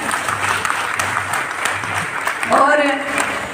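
A seated audience at a Hindi awards ceremony claps steadily in a loud, dense wash of applause, and a voice speaks over the end of it.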